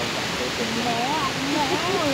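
A river rushes along a riverbank near Probolinggo, a steady, broad roar of flowing water, with people talking over it.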